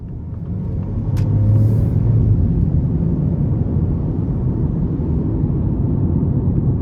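A 2025 Ford Bronco Sport Big Bend accelerating in sport mode, heard from inside the cabin as a steady, loud low engine and road rumble that builds quickly and holds, with no talking.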